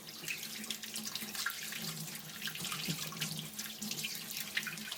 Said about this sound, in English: wash all the parts under running water